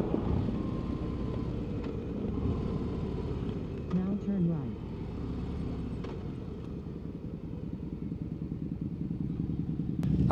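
A 2024 Harley-Davidson Road Glide motorcycle riding at an intersection, its V-twin engine rumbling steadily and close with a brief revving rise, and a voice talking over it.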